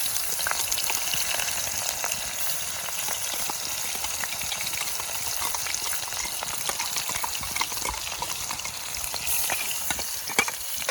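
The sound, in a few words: frying ground chilli, ginger and garlic paste in pan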